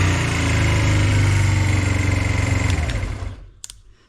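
A Honda CB125 twin motorcycle engine idles high with a steady, loud, buzzing drone close by, then cuts off abruptly near the end, followed by a couple of faint clicks.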